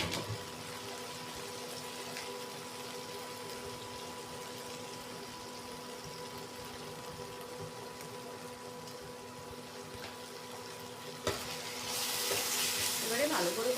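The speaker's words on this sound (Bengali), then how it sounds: "এবারে ভালো করে কষাবো লো ফ্লেমে। মাছগুলো দেখুন এইভাবে ভাজতে হবে।" Pomfret fish frying over a low flame with chili and tomato sauce gives a faint, steady sizzle over a low hum, then swells into a louder, brighter sputter near the end.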